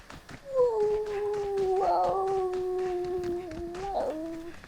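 A man imitates a husky's howl with his voice, a drawn-out, wavering howl that rises and bends in pitch over several seconds, close and fairly loud, with a short yelp near the end.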